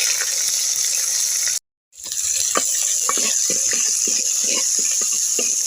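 Chopped onions hit hot oil already popping with mustard and fenugreek seeds in a village kitchen, giving a steady dense sizzle with sharp crackles after a brief silent break near the start.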